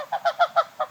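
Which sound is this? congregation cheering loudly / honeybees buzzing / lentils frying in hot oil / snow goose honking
snow goose honking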